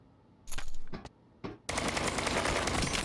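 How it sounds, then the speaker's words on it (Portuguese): Gunfire in a free Tarkov-style shooter video game: short loud bursts crack out, a brief one, a second, then a sustained heavy burst of rapid fire that continues to the end. "Tiro na cabeça é rapidinho pro cara cair"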